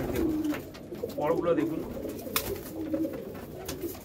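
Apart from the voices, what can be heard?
pigeons cooing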